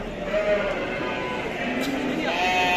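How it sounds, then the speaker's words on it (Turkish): Lambs bleat a few times at a livestock market in Şarkışla, short wavering cries rising over a crowded market din with people talking nearby. "Temiz kuzular."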